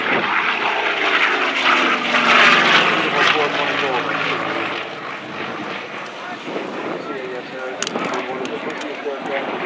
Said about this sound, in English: This airplane that you see is one of the original airplanes that launched the Confederate Air Force